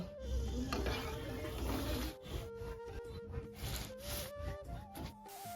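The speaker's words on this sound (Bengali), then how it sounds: "কড়াইতে তেল দিয়ে দিয়েছি এবার লুচিগুলো ভেজে নেব" Luchi fry in oil in a wok with a busy sizzle, mixed with stirring, scraping and clinking of utensils against the pan, moderately close.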